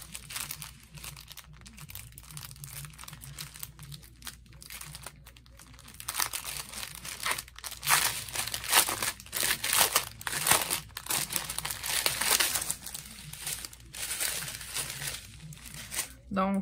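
Plastic packets of diamond painting drills being handled and opened, giving repeated crinkling and crunching plastic sounds at close range, louder and busier in the second half, with occasional talk over them.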